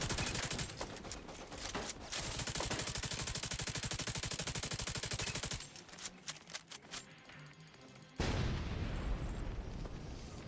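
Sustained automatic gunfire from a firefight in The Division 2, dense rapid bursts for several seconds, a brief lull of scattered shots, then heavy continuous fire resuming loudly to the end.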